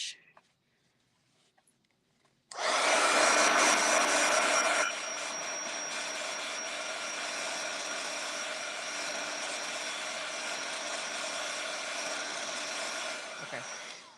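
A heat gun blowing on a shrink plastic keychain starts abruptly after a quiet moment, then roars steadily and loudly, easing slightly in level and holding until the end.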